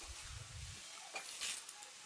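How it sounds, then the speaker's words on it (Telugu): Dried red chilies sizzle and hiss in hot oil with curry leaves, garlic and lentils, a soft close frying crackle with a brief stir near the middle. "ఎండుమిరపకాయలను వేసుకోండి."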